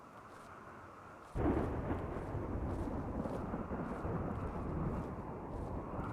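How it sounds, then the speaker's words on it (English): Thunder from a dry thunderstorm in the game Rimworld: a low, steady rumble over a quiet background, then a sudden loud crack that rolls on as a heavy, sustained roar with no speech. "There is a dry thunderstorm."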